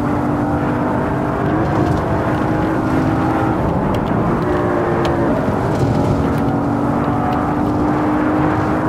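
An Audi RS6 driven in the racing game Assetto Corsa in VR: a loud, continuous engine drone that climbs and holds in pitch as the car accelerates, with no voice over it.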